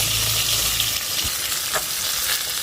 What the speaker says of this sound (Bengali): এখানে হলো মাছটা ভাজা হচ্ছে বাটা মাছ